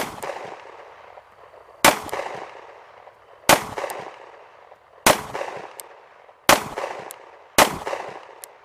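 Six sharp Glock 43x pistol shots fired from a 15-round magazine, spaced roughly a second and a half apart, each loud crack trailing off into echo.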